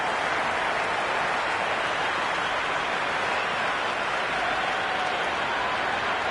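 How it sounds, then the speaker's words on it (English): Steady crowd cheering and buzzing from the stands at a cricket match in the video game Cricket 26, a dense, even roar held at one level throughout without a break. "There's a buzz, a real buzz coming from the stands."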